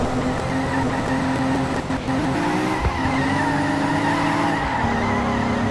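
A BMW M4 racing on a track in the video game Cobra 11 Highway Nights, its engine roaring steadily with shifting pitch and tires squealing and skidding through corners, loud and continuous.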